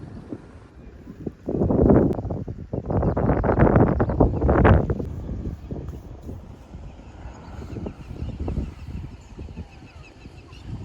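Wind gusts roar across a farm field at sunset, rumbling in the microphone in strong bursts early on and then settling into a steadier, softer blow.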